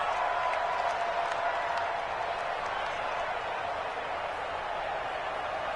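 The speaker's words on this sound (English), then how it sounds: "And this crowd loves it as their guys hold on the opening drive." A stadium crowd in an American football video game roars and applauds in a steady, loud wash that holds for several seconds, with a voice faintly under it.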